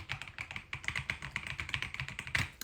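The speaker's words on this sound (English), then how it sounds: "this is exactly how the keyboard comes, how it sounds" Close, crisp typing on a stock full-size mechanical keyboard with a number keypad, a quick irregular run of sharp clacky keystrokes with no talking.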